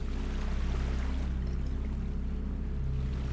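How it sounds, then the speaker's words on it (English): Waves washing on rock in the video game Salt & Sanctuary, a steady rushing wash of water with a low rumbling undertone, continuous and even throughout without talk. "I awoke to the sounds of waves washing on rock, and I knew I was alive."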